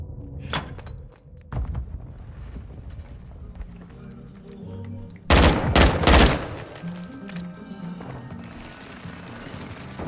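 Gunfire in Call of Duty Modern Warfare II, a few scattered sharp shots early followed by a loud dense burst of rapid fire near the middle, over background game noise and faint radio chatter.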